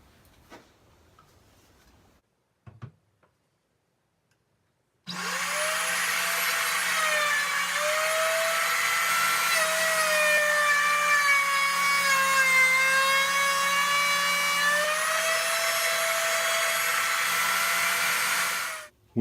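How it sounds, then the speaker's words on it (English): A handheld router cuts a groove in the wooden lid of a toy chest between stop blocks, a loud, sustained high whine with a slight wavering pitch, beginning after a few faint knocks and stopping abruptly near the end. "I'll just run my router between the stop blocks"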